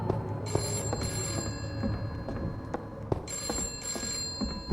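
A telephone rings inside the Roblox game Before Truth, two clear bursts of bell ringing separated by a pause, loud and close amid faint game noise, with nobody speaking.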